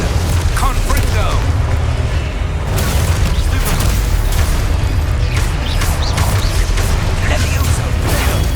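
Confringo fire spells explode in the Hogwarts Legacy video game as a steady barrage of loud booms and crashes, with voices calling out between blasts.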